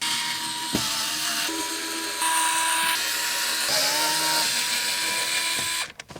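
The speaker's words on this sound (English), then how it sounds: "And now we'll just get the screws out." A cordless power tool whirs steadily while backing screws out of the dash panel of a 2015-2021 Subaru WRX, its whine shifting pitch in short bursts before stopping near the end.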